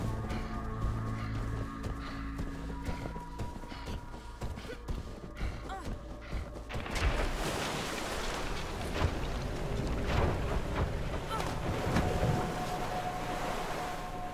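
Blizzard wind in the video game Never Alone: a steady hiss of gusting wind that swells louder partway through and then roars continuously, with no talking.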